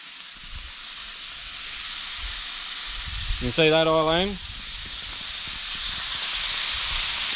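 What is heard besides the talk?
water steaming on hot plate cooking yabbies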